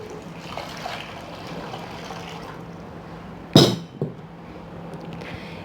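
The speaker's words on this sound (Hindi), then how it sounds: "1 लीटर पानी इसमें शामिल करूँगी।" Water is poured into a small pot holding falsa berries, a faint trickle throughout, broken by a sharp metallic clink and a smaller knock against the pot.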